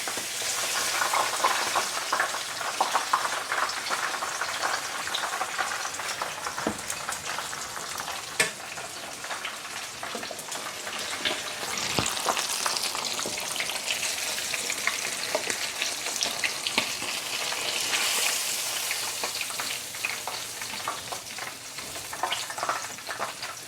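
Steady, loud sizzling and crackling of fish frying in oil for Jamaican escovitch fish, continuous throughout with occasional sharper pops and stirring noises, no voices.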